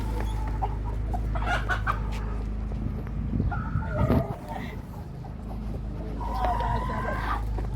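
Hens cluck nearby in short bursts over a low, steady rumble, with a few louder squawks midway.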